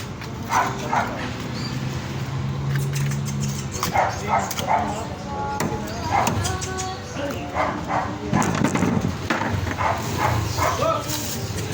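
Dog barks and yips break out amid a busy Philippine fish market, where sellers and buyers talk and haggle throughout over steady crowd noise.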